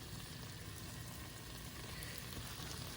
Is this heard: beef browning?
yes